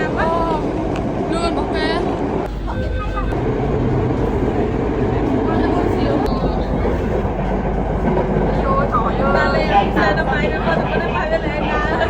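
A passenger train ride in Dalat, with steady rumbling wheels and rhythmic clickety-clack over the rails, loud and close, while people chatter on board.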